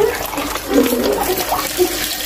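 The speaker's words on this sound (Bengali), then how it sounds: "দেখেন কত জোরে পানি পড়তেছে" Water gushing forcefully out of a homemade iron-removal filter, a steady close splashing rush with no voices.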